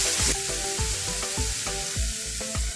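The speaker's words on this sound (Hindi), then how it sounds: "अब हम इसके अंदर अपना चिकन ऐड करेंगे और उसको अच्छे से फ्राई करेंगे" Chicken pieces frying in ghee with ginger-garlic paste, a steady loud sizzle broken by repeated scraping stirs roughly every half second, with no voices.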